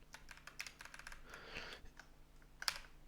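Rapid typing on a computer keyboard while coding a Pong game in TIC-80, with irregular key clicks in quick bursts across the whole stretch, close and moderately quiet, with no talking.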